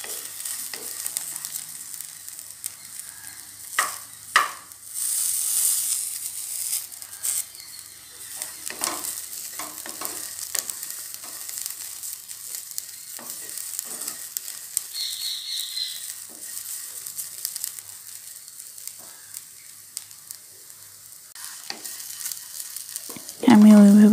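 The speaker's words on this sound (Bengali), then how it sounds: "হাই ফ্লেমেই ভাজছি আমি, কিন্তু ফ্লেম কমাইনি একটুও।" Bottle gourd peels frying on a high flame in a pan, with a steady sizzle and repeated scraping stir strokes throughout, fairly close and alone without talk.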